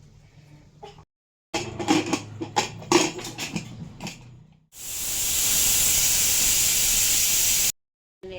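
After some clattering and knocking, a loud, steady hiss of steam rushes out of a pressure cooker cooking biryani for about three seconds, then cuts off abruptly.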